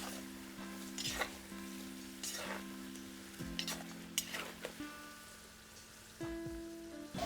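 Potatoes being stirred in a pot, giving a few scraping, clattering strokes over a steady soft sizzle, with faint tonal hum beneath and no talking.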